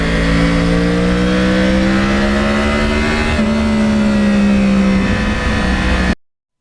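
A 2009 Yamaha R1 crossplane motorcycle engine revs up close, holding a loud, steady, harmonic-rich growl whose pitch climbs gradually and then dips slightly before cutting off abruptly.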